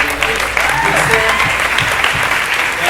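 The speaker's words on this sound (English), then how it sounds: "All right, a round of applause" A panel discussion audience breaks into loud, close applause, a continuous dense burst of clapping with a few voices faintly audible underneath.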